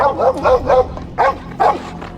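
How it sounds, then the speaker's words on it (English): Dogs in an episode of The Last of Us TV series, giving a quick run of loud, close barks and yips, followed by two more separate sharp barks after a short pause. "Oh, the dogs!"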